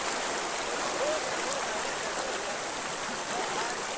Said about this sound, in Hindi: ये देखो देखो पानी इतना बहाव अभी है